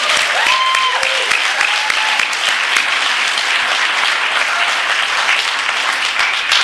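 A large crowd at a Narcotics Anonymous convention applauds loudly and continuously, a thick wash of clapping with a brief whistle near the start.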